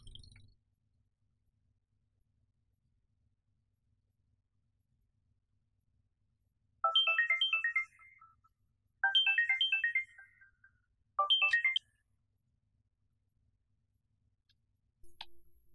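Phone ringtone from a Vietnamese TV drama scene, playing three short melodic bursts of rising and falling electronic notes, separated by pauses, in an otherwise quiet room.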